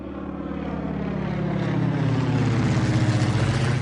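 Steady propeller airplane engine drone in flight, a continuous low hum with a faint rhythmic throb that builds slightly louder midway and holds, heard alone without voices.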